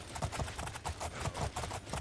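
A horse gallops in the fantasy game Oblivion, with steady rhythmic hoofbeats in quick repeating groups, soft and fairly quiet, alone without talk.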